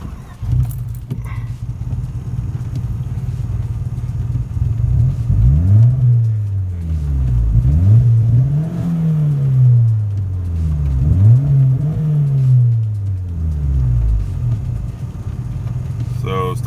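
A turbocharged Honda Civic engine running a stock ECU idles with a low rumble, then revs up and down several times in repeated swells before settling back to idle.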